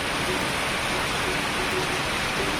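Steady, dense hiss of morning rain falling on surfaces near Bitbit Bridge, Norzagaray, Bulacan, continuous and fairly loud throughout with no distinct breaks.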